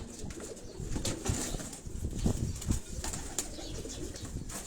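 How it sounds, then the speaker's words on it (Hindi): Breeder pigeons on a rooftop in Karachi Defence coo in a dense, steady murmur, with occasional bursts of wing flapping close by and no talking. "ये सारे ब्रीडर कबूतर हैं जितने भी ये मैं आपको दिखा रहा हूँ"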